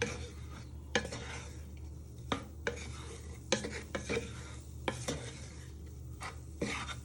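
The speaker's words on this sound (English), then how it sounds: "into the pan, and you just want to give them a little quick stir into your prawns." Prawns cooking in a pan with Cajun seasoning, stirred with a utensil: a steady sizzle runs underneath while repeated clinks and scrapes of metal against the pan come at irregular intervals, close and fairly quiet.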